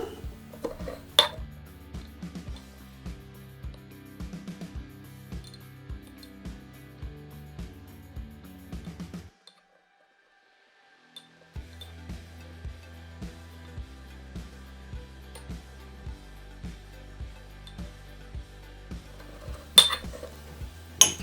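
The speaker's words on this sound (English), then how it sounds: "The first thing you do is crush your clay" Porcelain clay being crushed into fine powder with a hand tool, giving steady rhythmic grinding and clinking knocks close up, with a brief pause midway before the crushing resumes.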